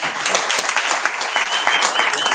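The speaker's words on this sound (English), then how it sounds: "please a round of applause for our panelists" Audience applause at a mining conference in Cape Town, greeting a panel of speakers: dense, steady clapping from a sizeable crowd filling the short stretch at even loudness.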